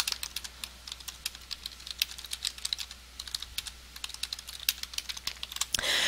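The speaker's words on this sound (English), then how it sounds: "If you start typing your blog entry in the Blogger" Someone types on a computer keyboard in quick, irregular bursts of close clicking keystrokes over a faint low hum, with no talk.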